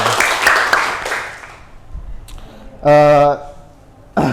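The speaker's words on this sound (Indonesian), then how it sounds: "Oke, tepuk tangan buat semuanya." Students in a microteaching English class clap together for about a second and a half. The clapping fades into quiet, followed by a short tonal electronic sound and voices.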